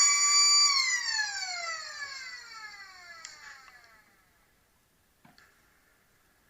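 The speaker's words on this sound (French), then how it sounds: "Sirène à retardement" Delayed-start siren at a harness race at Paris Vincennes, a loud multi-tone wail that holds briefly and then winds steadily down in pitch, fading over a few seconds into near silence with a couple of faint knocks.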